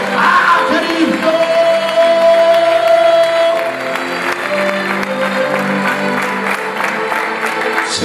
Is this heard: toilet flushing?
no